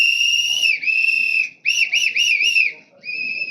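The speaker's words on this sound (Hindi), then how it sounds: "आज के बोलने की शुरुआत तो सीटी बजा के ही होनी चाहिए।" Whistles shrilling at a Bihar election rally, loud sustained blasts with a warbling middle stretch and short breaks, close and dominant with no speech.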